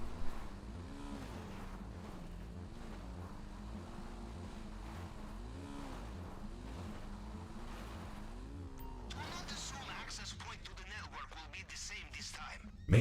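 Motorbike engine in GTA 5 Online drones steadily with a wavering pitch throughout, rising and falling as the bike rides along, with a burst of louder crashing noise near the end.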